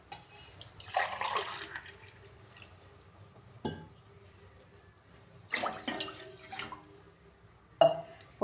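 Water is poured from a glass into a pot on the stove while making Telangana pulagam, a sweet rice dessert: a few short splashing pours with light clinks, separated by quiet gaps. No one speaks.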